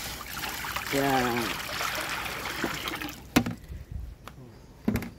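Water pours from a container for a butchered native chicken, a steady trickle of rising pitch early on, then a few splashes and clunks later, while someone speaks briefly.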